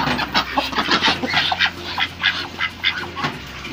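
Ducks eating a newly introduced Gallimax feed, with a steady close chorus of quacking and busy pecking and jostling, no voices heard.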